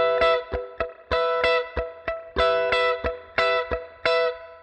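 Electric guitar strummed with muted strings on a song: a slow down-up pattern of choppy chord bursts, each sharply cut short by a percussive mute, distorted and close, with no talking.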